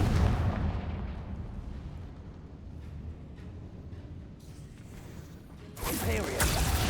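Confringo blasting spells explode in the video game Hogwarts Legacy, a continuous loud, rumbling barrage of blasts with a heavy burst near the start and another sharp surge near the end.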